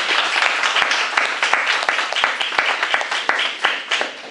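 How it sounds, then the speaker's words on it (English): An audience applauds after a talk at a university, a loud, dense patter of many hands with sharper individual claps standing out in an uneven rhythm throughout. "Give yourself a round of applause"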